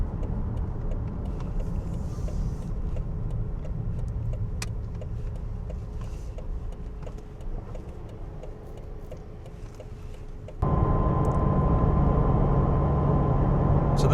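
A car drives along a road, its engine droning steadily with tire roar underneath, then a gear shift brings a sudden change to a louder, higher engine tone near the end, with no talking.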